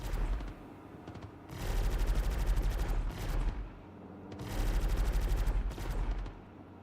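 Rapid gunshots in a video game hunting session, two long loud bursts of fast automatic fire separated by a quieter stretch with lighter shots.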